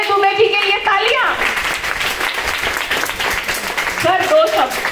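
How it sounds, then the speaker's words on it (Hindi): Audience applause at an event rises into a steady, loud wash of clapping lasting several seconds, with a voice talking over the start and end. "अजय दुबे जी के लिए तालियां"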